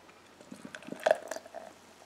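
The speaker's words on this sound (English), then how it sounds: "Oh shit, it's going everywhere. I'm pouring this badly." Pecan English-style brown beer poured sloppily from a can, a short splashy, fizzing pour with a few soft glugs and drips, close up and fairly quiet, with no talk.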